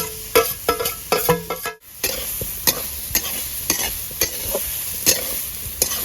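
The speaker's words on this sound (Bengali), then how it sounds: "কড়াইটা গরম হয়ে গেছে এবার নারকেল পোড়া দিয়ে দেবো" Grated coconut is stirred in a hot kadai, with sharp, irregular spatula scrapes and taps against the pan over a light sizzle, close up with no talking.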